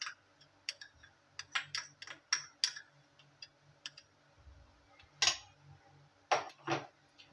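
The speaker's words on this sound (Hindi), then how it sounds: "इन मसालों को अच्छे से मिक्स कर लेते हैं अंदर।" Spices, paprika and ginger-garlic paste are mixed into a chicken nugget batter with a utensil, producing scattered close clicks and taps against the bowl, alone and without talk.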